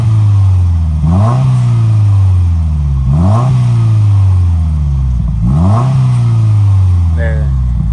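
Close, loud revving from a Subaru WRX with a Tomei exhaust: three quick throttle blips around 3,000 rpm drop back to a rumbling idle, followed by a few small crackling pops near the end.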